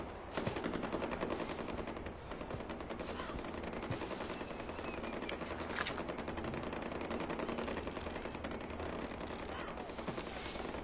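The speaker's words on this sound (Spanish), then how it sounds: "Yo escucho balazos." Dense automatic gunfire from the video game Far Cry 4 rattles on without a break, loud and rapid, with a layer of game ambience underneath.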